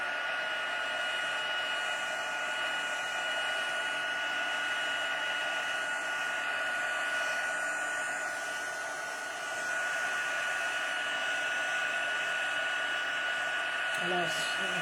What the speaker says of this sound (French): je garde les doigts quand même éloignés de l'embout du pistolet chauffant parce que c'est chaud